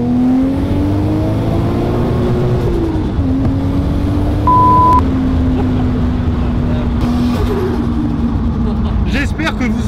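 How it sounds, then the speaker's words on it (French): A 750 hp Supra accelerates hard up a motorway on-ramp, its engine drone rising steadily and holding loud and close for the whole stretch, while people talk over it inside the car. "Vous entendez le son du turbo là avec le micro parce que c'est jouissif"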